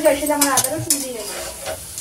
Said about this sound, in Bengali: মিষ্টি কুমড়ো ভাজা অবশ্য হচ্ছে পাশে